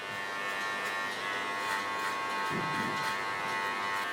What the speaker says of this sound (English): Go in this with the tip of my clipper and soften both lines to the right and to the left